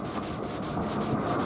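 WD-40 is rubbed onto a car headlight lens during cleaning, producing a continuous close scrubbing rasp with a regular stroke rhythm and no voices.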